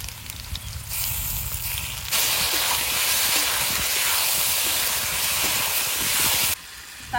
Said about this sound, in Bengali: আলু একটু ভেজে নিয়েছে, এবার মশলাগুলো দিয়ে দেবো আলুর মধ্যে।